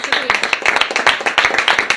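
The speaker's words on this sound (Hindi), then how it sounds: "तालियां बजती रहनी चाहिए" Steady rapid clapping from a group, loud and close, with voices talking over it.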